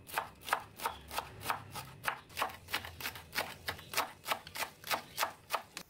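Spring onions chopped into small pieces with a knife on a cutting board, a brisk, steady run of crisp, evenly spaced chops, close and clear with no talk.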